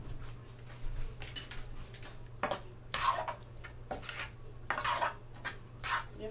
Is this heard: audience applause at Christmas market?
no